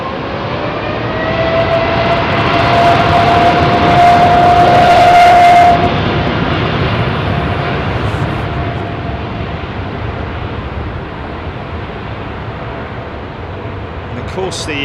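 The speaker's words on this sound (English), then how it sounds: "The noise that you hear as they spool up is actually well, a lot of it, the high-pitched end of it is the actual fan blade tips reaching the speed of sound" Jet airliners spooling up for departure on runway 27R at London Heathrow, heard up close: a loud, steady roar with a rising high-pitched fan whine that swells and then eases slightly, with talk over it.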